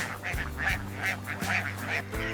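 A flock of egg-laying ducks quacks in steady repeated bursts, many birds calling close together on a farm.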